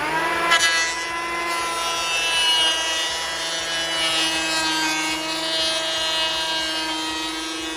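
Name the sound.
planing rough second-hand timber beams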